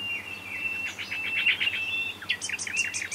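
Several small birds chirp and trill in quick repeated phrases, bright and fairly close, with a faint low steady hum underneath.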